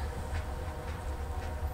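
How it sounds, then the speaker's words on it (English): A loaded CSX corn train heading northbound on a rail subdivision, ES44AH locomotive leading, heard as a steady low rumble of rolling railcars, moderately loud and continuous without speech. "I have a CSX loaded corn train,"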